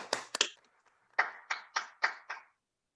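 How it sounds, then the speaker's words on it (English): Sparse hand claps from a virtual Toastmasters club meeting held online: a quick pair of claps, a short pause, then five evenly spaced, crisp claps, close and moderately loud, with no voices. "please give a big round of applause to the winners and Toastmasters, all the assignees for today's wonderful meeting"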